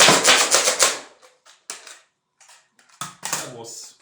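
Final shot from an X-Shot Fury foam dart blaster, a cluster of sharp plastic clacks and snaps early on, followed by scattered lighter mechanical clicks and a last burst of rattling handling noise.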